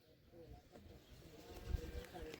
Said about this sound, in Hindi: इसे देखिए कितनी सारी चिड़िया आई